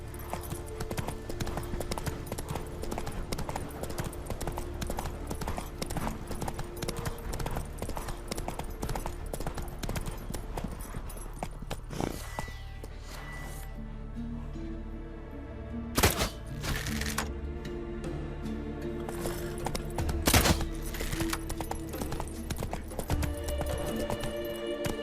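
Roach's hooves pound in a fast, steady gallop in The Witcher 3 video game, close and continuous, with a few sharp louder thuds partway through and a voice calling to the horse.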